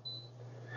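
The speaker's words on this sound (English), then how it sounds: "to open the door, we're going to just dial the code in that we put in there" A few soft electronic beeps from keying a code into a Jokiro WiFi smart lock keypad on a home door, faint and close against a steady low hum.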